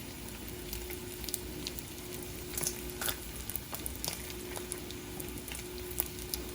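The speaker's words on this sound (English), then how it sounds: "Since this is turkey bacon, it does cook a little different than pork." Turkey bacon sizzles and spits steadily in butter in a copper pan, a continuous close frying hiss with scattered pops and crackles, no voices.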